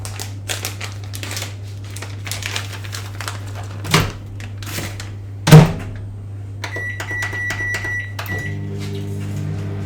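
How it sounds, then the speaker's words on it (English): A microwave oven runs with a steady low hum throughout, with a couple of sharp clunks midway and a series of beeps near the end. "It just takes 2 minutes in the microwave"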